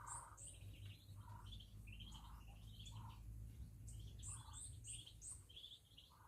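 Faint, high-pitched peeping from about eighteen small ducklings, overlapping chirps that continue steadily over a low background hum.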